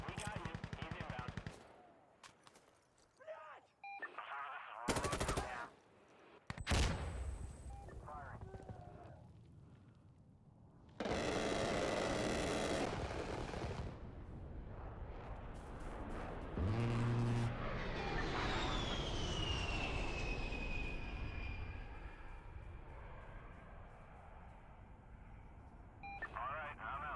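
Aircraft gun run strafing a position in the video game Insurgency Sandstorm, with loud roaring bursts and a sustained rushing engine-like sweep, mixed with earlier gunfire and radio chatter talking over it.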